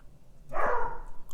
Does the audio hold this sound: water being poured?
no